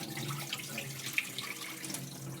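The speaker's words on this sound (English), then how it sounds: "I always wash my fruit" Fruit being rinsed under a running kitchen tap, a steady splashing flow of water into the sink that stays fairly even throughout, close up and moderately quiet, with no talking.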